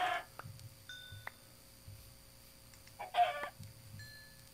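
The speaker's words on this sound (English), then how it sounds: "Maybe some more chickens." Chickens in the video game Minecraft, played with the Traincraft mod, give a few short, soft game clucks spread over the clip, with quiet background game sounds and no talking.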